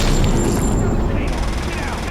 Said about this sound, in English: the enemies are now shooting at him